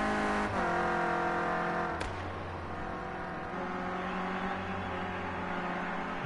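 A Renault Clio Cup race car's engine revs loudly and steadily in a harmonic drone, with a sharp shift or blip near the two-second mark, in a circuit race setting after the car spins and gets turned round.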